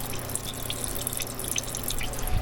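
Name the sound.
draining fluids from Jeep Wrangler YJ 2.5L engine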